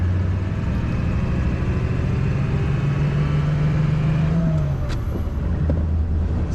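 A 1936 Ford Cabriolet drives with its top down through a three-speed floor manual. Its engine holds a steady low drone, rising in pitch before an apparent shift, under continuous wind and road rush heard from inside the car.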